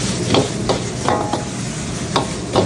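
Guyanese fried rice is tossed with brown sauce in a hot pan, a steady close sizzle broken by rhythmic scraping strokes of a spatula roughly every half second, no one speaking.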